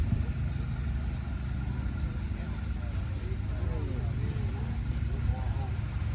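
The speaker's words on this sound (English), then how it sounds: "I never knew Ford made a tractor." Ford tractor engine rumbling past at a spring tractor parade in Spring Valley, Ohio, a steady low drone held at close range for the whole stretch, with a faint hum of people in the background.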